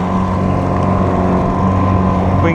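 A motorboat engine drones loud and close during muskrat trapping in a marsh, a steady low hum with a constant tonal whine that holds unbroken throughout.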